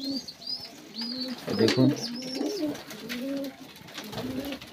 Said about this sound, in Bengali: পায়রা রয়েছে ফটিকদার কাছে।